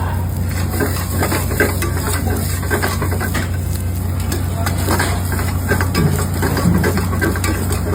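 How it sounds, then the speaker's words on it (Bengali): Diced onions fry in a pan with chopped green chilli and garlic for a hotel-style chicken do pyaza. A loud, continuous sizzle runs alongside the scraping and clatter of stirring, with no talk. "আর এখানে আমি অ্যাড করবো এখন কিছুটা পরিমাণ ডাইস কাট অনিয়ন"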